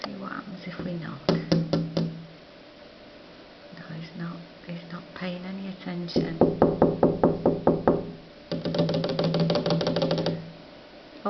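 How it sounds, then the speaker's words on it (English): Two quick bursts of rapid knocking on a surface to get a cat's attention sound close by, with soft whispered talk between and over them. "See what happens if we knock."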